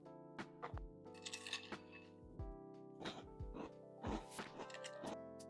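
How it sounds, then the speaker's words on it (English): Close, crisp crunching of Magic Spoon chocolate cereal with a splash of almond milk, a series of sharp bites and chews in an uneven rhythm against a faint steady hum. "it is very crunchy like regular cereal"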